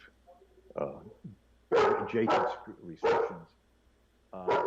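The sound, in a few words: dog barking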